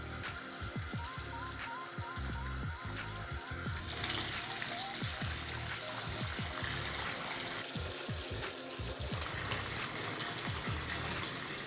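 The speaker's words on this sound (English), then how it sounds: "I add cold water and cool the cauliflower quickly." Cold water gushes from a tap over cooked cauliflower in a restaurant kitchen, a steady splashing pour with clattering knocks, louder and fuller toward the end.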